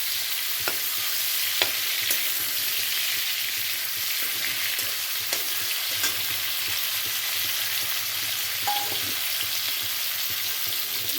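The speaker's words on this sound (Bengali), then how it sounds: "মাছটা এখন আমি তুলে নেব। ভাজা হয়ে গেছে আমার।" Steady, loud sizzle of fish frying in hot oil, a dense crackling hiss with occasional sharper pops and no voices.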